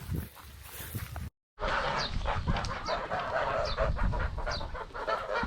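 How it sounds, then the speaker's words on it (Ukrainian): Farm chickens cluck and call steadily at moderate distance, with brief higher bird calls and possible geese mixed in, after a short cut of silence; no one speaks. "Гуси тут у фермера. Курочки вон бігають."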